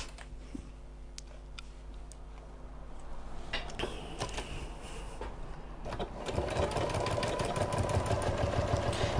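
A sewing machine runs a seam at stitch length 2.4 for a fabric medication bag organizer. Scattered ticks and clicks come first, then steady close motor whirring and rapid stitching that grows louder and denser toward the end.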